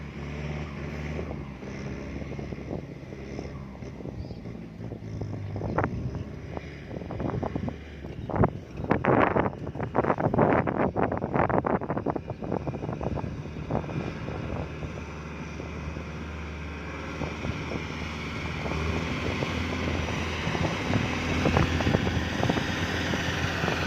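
A Kubota MU5702 tractor engine fitted with a new exhaust pipe runs with a steady drone, then revs through a burst of louder rough pulses midway before settling back to a constant hum, with wind noise on the microphone.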